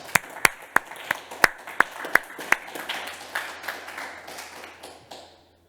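Scattered claps from a press conference audience at a summit celebrating 700,000 saved, starting as a few sharp separate claps and thickening into a brief, light round of applause before fading out.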